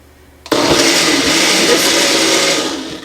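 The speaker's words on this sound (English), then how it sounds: "Just put it on puree or food process, whichever one is easier on you." Kitchen blender pureeing Texas-style barbecue sauce: a loud, steady whirring roar kicks in abruptly after a short quiet moment, holding constant before easing off slightly at the end.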